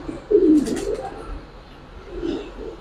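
Old-bloodline pigeons coo in a low, close throaty burst, then a softer coo follows after a pause, alone without talk.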